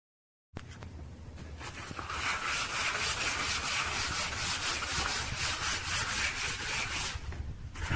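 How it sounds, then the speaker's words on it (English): Rapid rhythmic rubbing of sandpaper against wood, starting after a brief silence and continuing steadily, close up, with no talking. "So that was just a little bit of sanding."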